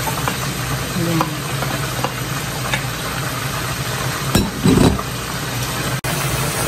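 Cabbage and mixed vegetables stir-frying for pansit give a steady, loud sizzle, with a few clanks of stirring near the end and no speech.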